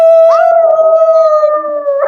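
A single long, loud werewolf howl from a TV show, a clear sustained tonal cry that bends upward, then holds steady, with a brief whimpering inflection near the end.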